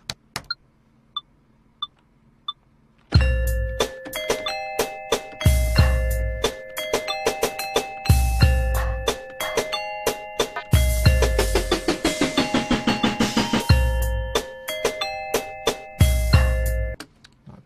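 Bright bell tones from Beat Thang Virtual beat maker software play as a looping melodic pattern over punchy drum hits. A few sparse bell pings come first, then the full beat drops in, loud and rhythmic.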